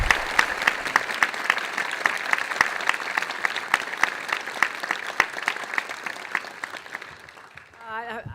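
Audience applause for the speakers at a national security event, a steady dense clapping with a few sharp individual claps standing out, sustained for several seconds before tapering off near the end.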